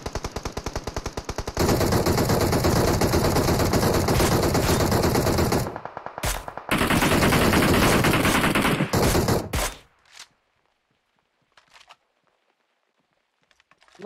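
Dense automatic gunfire from a PUBG match rattles loud and near as a vehicle is shot up, one long sustained burst then another after a brief gap, ending with a few scattered shots and footsteps.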